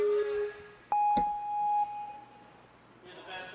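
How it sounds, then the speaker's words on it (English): A ninja obstacle course buzzer sounds as a short electronic beep test, a clear sustained tone of about a second that rings out loudly over a commentator talking. "making sure that the buzzer still works well"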